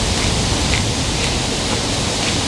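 A waterfall pours into a pond in a forest in Korea, a steady, loud, hissing rush of falling water with no voices.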